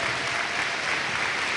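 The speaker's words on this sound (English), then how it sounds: "Give him a round of applause as we hear from Lytle." Dense, steady applause from a luncheon audience of a Nashville ministry event, a continuous wash of many hands clapping close and loud with no gaps.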